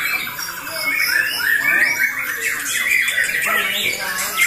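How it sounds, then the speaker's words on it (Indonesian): Several oriental magpie-robins in a songbird competition squawk and chatter loudly close by, harsh overlapping calls and rapid trills jostling continuously as if competing. "pertarungan burung Murai Batu berkualitas lomba"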